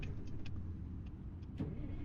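A stalled truck engine in American Truck Simulator, a quiet low rumble with faint clicks and a brief knock near the end, no voices.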